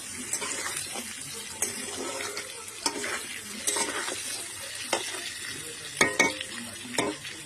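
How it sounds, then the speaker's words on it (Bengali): Papaya and potato pieces fry in a pan with cumin seeds, giving a steady close sizzle broken by sharp scraping clicks as a spoon stirs them now and then; nobody speaks. "তো এটা ভালো করে ভাজা হোক আস্তে আস্তে।"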